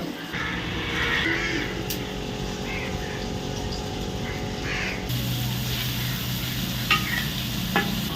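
Fish sizzles and crackles in a pan over a stove fire, a steady frying hiss with faint clinks of stirring, louder and brighter after a change midway.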